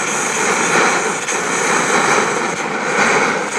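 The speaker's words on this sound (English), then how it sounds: "Oh, it just burns really well, and it generates tremendous heat." A petrol-fuelled camping stove burns with a hot flame, giving a loud, steady, close roar that continues without a break and without any talk.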